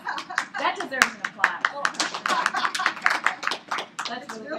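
Applause from a small group during a stretching class, scattered hand claps mixed with cheering voices and chatter, close and lively for several seconds.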